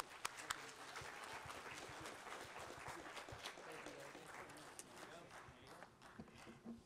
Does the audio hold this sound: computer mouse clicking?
no